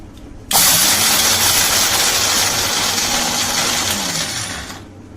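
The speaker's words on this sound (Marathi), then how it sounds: "आता आपण हे मिक्सर मध्ये बारीक करूया।" A mixer grinder whirs loudly for about four seconds while grinding roasted peanuts, green chillies and garlic cloves, starting abruptly and running at a steady high whine before tapering off.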